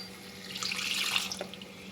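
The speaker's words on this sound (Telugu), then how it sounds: "ఇప్పుడు కొంచెం వాటర్ వేసుకుందామండి" Water is poured into a pan of fried masala to make gravy for pulao and chapati, a short, close splashing gush that swells and then eases off.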